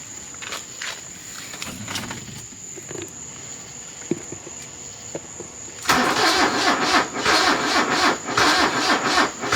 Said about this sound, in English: See what happens with a little carb start.